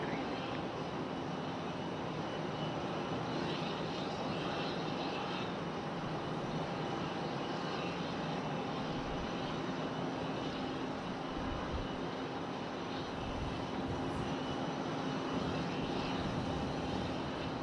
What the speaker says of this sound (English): Got this Delta 737 sitting down here waiting for its departure slot